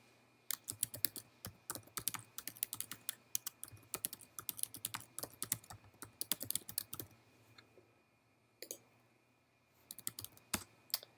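A username and password typed on a keyboard to log in, with fast bursts of close, crisp key clicks, a short pause near the end, then a few final taps.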